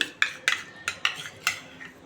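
Spoon stirring dry flour in a pan: a quick series of light metallic taps and scrapes, about seven close clinks in two seconds, alone and without talk.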